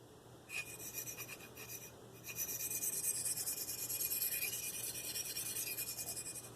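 A Marttiini Lynx knife blade is worked over a sharpening stone in steady rasping strokes, a short pass followed by a pause and then a longer continuous scraping run, close and quiet.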